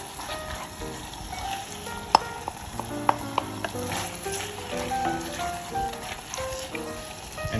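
Shredded braised beef short rib stirred back into a reducing sauce in a pan, a steady low sizzle and bubbling with a few sharp utensil clicks against the pan, close and quiet throughout.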